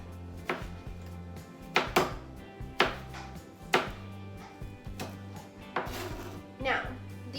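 A knife slices an onion into rings on a cutting board, about eight distinct chops in an uneven rhythm, close and fairly faint, with low background hum between strokes.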